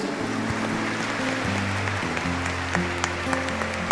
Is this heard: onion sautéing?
no